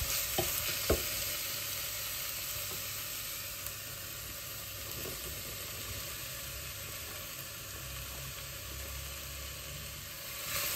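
Cabbage, carrots and green beans frying in a pan for an Asian chicken fried rice, a steady close sizzle with faint scraping from stirring running throughout, no voices.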